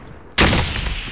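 Gunfire in Call of Duty Warzone: a loud burst of game shots breaks in suddenly after a quiet moment and keeps going as a dense, sustained volley.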